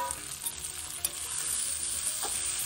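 Three medium potatoes go into a pan with green beans that have already softened, frying with a steady sizzle under close spoon stirring and scraping; no voices.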